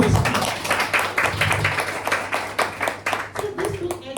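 Rhythmic clapping from an audience at the start of a seminar session, fairly close, with distinct individual claps in a loose, uneven beat over a low background hum.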